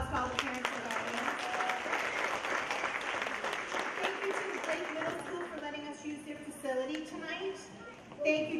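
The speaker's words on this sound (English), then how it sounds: "Round of applause to all the parents and guardians." Audience applause for parents and guardians at a school variety show, a steady dense clapping that fills the room, with voices and cheers mixed in and tapering toward the end.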